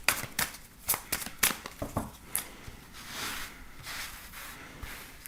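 Tarot cards being shuffled by hand, a quiet series of crisp riffling flutters and soft slaps in an uneven rhythm, close and alone.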